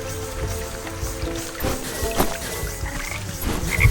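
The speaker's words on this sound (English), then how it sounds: "Oh, frogs." Frogs croak in the Wytchwood video game, a few short ribbity calls over a watery ambient background with faint game music, steady and moderately loud, no speech.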